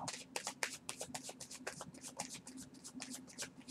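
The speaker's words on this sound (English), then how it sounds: "I'm going to get a pretty good shuffle on these." Tarot cards being shuffled close by, a quick run of crisp riffling flicks and soft slaps repeating steadily, with no talk over it.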